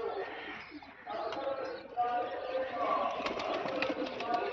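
A female pigeon cooing close by in a pigeon keeper's home loft, soft rolling coos repeating over a few seconds, faint and throaty against low background noise.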